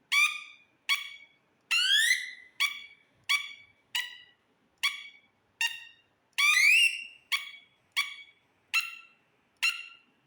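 Repeated electronic alarm chirps from a modified taser running on a universal A3 battery, a series of short shrill warbling bursts at a steady rhythm, close and clear over silence, with no talking.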